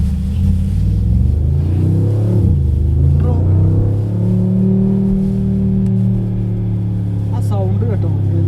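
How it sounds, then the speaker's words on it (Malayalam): A 2020 Mercedes G63 AMG in Sport Plus mode gives a loud, deep exhaust rumble from its four tailpipes, rising and falling as it accelerates, with a steady low drone throughout and a brief swell near the end. "സൗണ്ട് കേട്ടോ, എന്താല്ലേ സ്പോർട്സ് പ്ലസ് മോഡിൽ ആ എക്സോസ്റ്റിൻ്റെ 4 എക്സോസ്റ്റിൻ്റെ നോട്ടും ഭയങ്കര രസമാണ് കേൾക്കാൻ തന്നെ"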